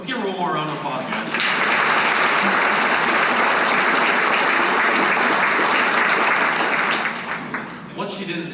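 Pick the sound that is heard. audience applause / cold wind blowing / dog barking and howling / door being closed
audience applause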